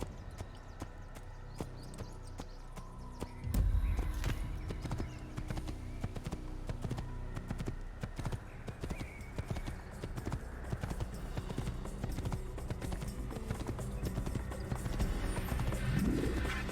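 A horse gallops in the Assassin's Creed video game, its hooves thudding in a fast, steady clip-clop rhythm that starts abruptly and continues over a busy game-sound backdrop, moderately loud.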